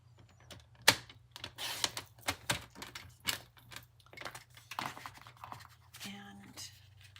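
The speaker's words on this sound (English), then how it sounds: "I think we do need to do 1/8 of an inch of trimming here" Paper trimmer slicing a thin strip of cardstock for a fold card, heard as quiet scratchy scraping and clicking strokes close by at a desk, with low room hum underneath.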